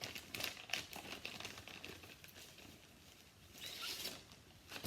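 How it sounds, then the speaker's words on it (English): Plastic packaging being opened and crinkled in faint, close, irregular rustles and crackles that come and go over a few seconds. "I have to take these out of the plastic, so forgive me for the crinkling."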